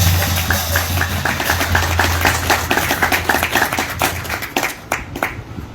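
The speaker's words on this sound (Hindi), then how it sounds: "सब एक बार आप अपने लिए ताली बजाओ जोरदार" Loud, dense clapping from an audience gathered at a Vedic devotional bhajan and sermon event, steady rapid hand claps filling the space for several seconds, with a low steady hum underneath and no voices.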